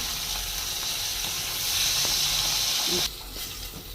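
Fish pieces fry in oil with a loud, continuous hiss and sizzle that drops off sharply near the end, as if the heat lowers or the pan shifts.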